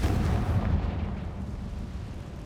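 Confringo blasting spell explosion in the Hogwarts Legacy video game, a single deep booming blast at the start that rumbles and slowly fades out.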